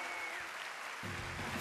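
A festival crowd at Olmué applauds comedian Alex Ortiz, with a steady wash of clapping that swells and grows denser near the end.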